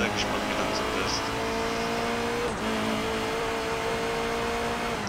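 A race car engine in Forza Motorsport 3 drones steadily at high revs, loud and sustained with a brief dip midway, while someone talks over it.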